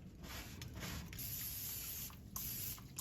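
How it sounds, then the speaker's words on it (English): Cooking oil sprayed from a can onto a smoker grate, a steady close hiss running nearly continuously with a couple of brief breaks. "Spray it down with some cooking oil."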